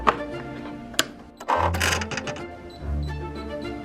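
A sewing machine stitching a summer garment runs in short bursts of rapid, steady whirring, separated by clicks and brief pauses, close and fairly loud.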